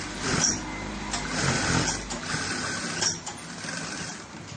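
Sewing machine stitching the joining seam of a kids' senator top, a steady mechanical whirr running through with brief pauses and small clicks, close and moderately loud.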